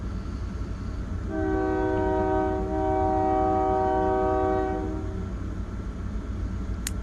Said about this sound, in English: Excuse the noisy train.